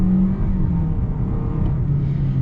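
A 2024 Toyota Corolla with a CVT accelerates in sport mode, producing a close, steady low engine rumble and whir that holds an even drone rather than stepping through gears.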